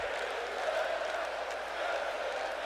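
Video game crowd noise from WWE 2K20 at an NXT TakeOver event in Brooklyn, a steady dense roar of fans chanting and cheering that holds level throughout.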